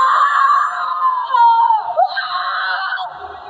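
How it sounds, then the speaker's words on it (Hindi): Screams of a person surrounded by evil spirits in a haunted mansion horror story, a continuous high, wavering cry that rises and falls for several seconds, loud and close with no talk over it. "उसके बाद बस उसकी चीखें सुनाई दी"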